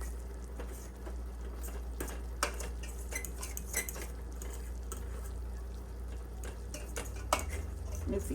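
Ingredients being mixed in a bowl for mole, with utensil scrapes and clinks against the dish over a steady low hum, no talking.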